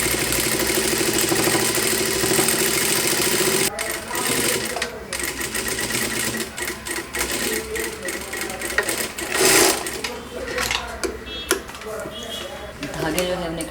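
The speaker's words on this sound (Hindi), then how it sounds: "यहाँ पर इसी स्टिच के बाजू से एक और स्टिच हमें चलानी है" A sewing machine stitches a four-dart blouse, whirring steadily at first, then running in short stop-start bursts with pauses while someone talks in between.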